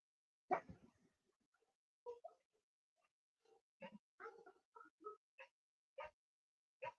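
Dogs giving short, faint barks and yips, scattered and spaced out over quiet, with one louder bark at the start and a few soft grumbling growls.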